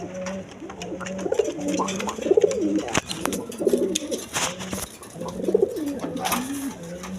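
Red Gorra pigeons coo in repeated low, throaty rolls at a pigeon seller's, several close calls overlapping with faint background chatter and rustling.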